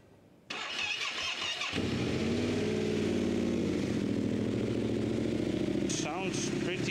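A Yamaha Tenere 700 motorcycle, fitted with an aftermarket exhaust, cranks over and catches, then idles steadily and fairly loud up close, with a brief voice near the end.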